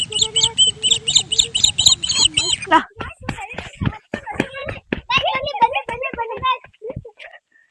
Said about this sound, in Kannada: ಪಕ್ಷಿಗಳು ಸೌಂಡ್ ನೋಡಿ ಗೈಸ್